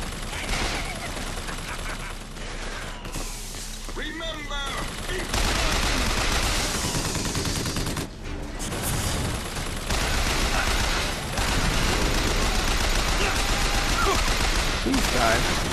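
Rapid bursts of gunfire from BioShock Infinite rattle loudly and repeatedly, with brief pauses between volleys and game voices speaking over the shooting.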